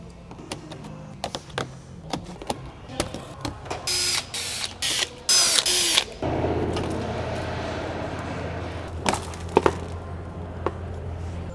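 A ratchet works the 10mm nuts and push clips off the under tray of a Hyundai Kona N, giving a run of sharp clicks and clunks followed by a steadier mechanical whir, close by with no voices.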